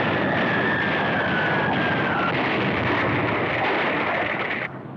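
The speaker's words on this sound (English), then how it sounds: "The Germans send up one of their first jet planes of World War II to knock down the bridge." An early German World War II jet plane passes overhead, a loud, dense roaring rush with a faint descending whine, steady throughout and cutting off near the end, as in old archival newsreel sound.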